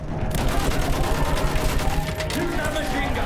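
Dense, sustained gunfire from blind fire in the video game Battlefield 1 rattles continuously at close range, with voices speaking over it.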